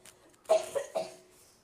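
A short burst of two or three coughs, close and clear, from someone speaking about dementia support organisations, standing alone without talk.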